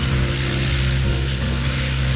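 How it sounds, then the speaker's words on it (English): Surf Prep sander working an old thrift store wooden stool, a steady continuous droning buzz with a low hum that runs without a break, heard alone and close. "grabbed my Surf Prep sanders and spent some time bringing it back to life"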